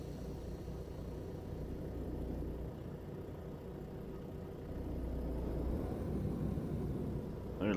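Steady low engine drone of a heavily loaded truck pulling away in American Truck Simulator, a constant rumble that swells slightly as it gets rolling.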